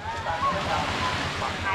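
Waves wash onto a beach on an island near Phu Quoc, Vietnam, surf rolling steadily under wind noise on the microphone, brief and close.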